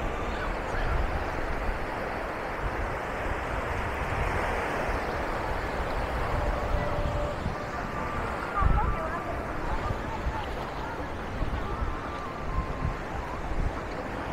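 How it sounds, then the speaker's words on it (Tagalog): Strong ocean waves roll onto My Khe Beach in Da Nang, a broad steady wash of surf mixed with wind buffeting on the microphone and people talking nearby. "Lakas ng alon."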